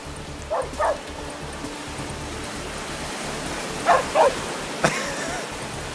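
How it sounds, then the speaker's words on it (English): A dog barks in two quick pairs of sharp yips, then a single short bark, fairly close against a steady low background hum. "I've never heard him bark so much."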